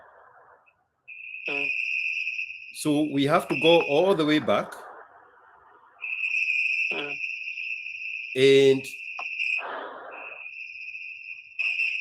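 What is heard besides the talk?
crickets chirping outdoors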